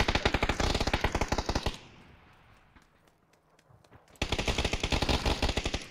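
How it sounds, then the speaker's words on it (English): PUBG video game gunfire: a long rapid automatic burst, a quieter lull with faint scattered shots, then another loud sustained burst of fast rhythmic rounds. "He was shooting."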